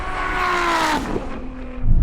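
Loud engine roar from a Ferrari SF90 and a 1000-horsepower Nissan GT-R accelerating hard side by side in a half-mile drag race, with rising revs, a gear change partway through, and wind buffeting near the end.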